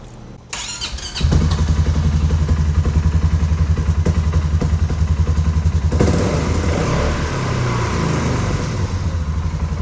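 A 2022 Polaris Sportsman 570 ATV with EBS, being checked for clutch vibration and binding, cranks and catches, then settles into a close, steady, throbbing idle with a slight shift in tone partway through; no voices.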